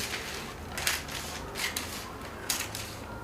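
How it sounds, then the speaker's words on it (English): Scissors slash through a paper dress pattern for a cowl-neck summer dress, making a few short crisp snips over a faint steady hiss. "So go ahead and slash it."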